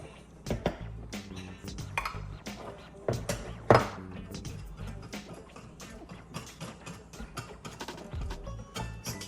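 A simple Saturday breakfast being stirred in a pan, with repeated clattering scrapes and knocks of a utensil against the pan in an irregular rhythm, close and fairly loud, one sharper clang standing out midway.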